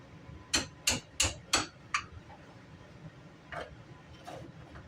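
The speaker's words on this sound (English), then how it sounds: "tapping the dowel back up just a little bit" Five quick, crisp taps drive a wooden dowel into a dining chair, evenly spaced and close, then a pause and two fainter knocks in a quiet room.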